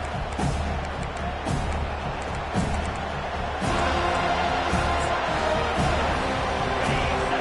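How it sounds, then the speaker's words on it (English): Home crowd at a Miami vs. Florida State college football game just after kickoff, a sustained roar of cheering with scattered sharp thumps and claps, swelling louder partway through. "this home crowd is fired up and ready to make a difference today"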